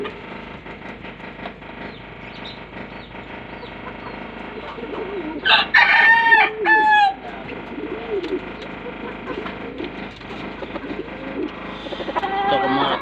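A rooster crows loudly partway through, over a steady murmur of clucking chickens and farmyard bustle at morning feeding time.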